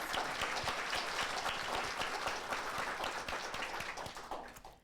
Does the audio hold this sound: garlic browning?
no